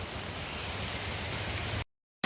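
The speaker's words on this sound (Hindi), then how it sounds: "देख सकते हो बारिश कितना जोर से हो रहा है" Heavy rain pours steadily and loudly, a dense broadband hiss drumming close by for nearly two seconds before cutting out abruptly, then returning briefly.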